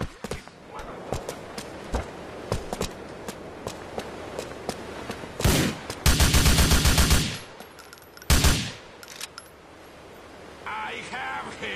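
Video game gunfire in Grand Theft Auto IV: a rapid string of sharp shots through the first half, then two loud, dense bursts of automatic fire, with voices and game noise mixed in.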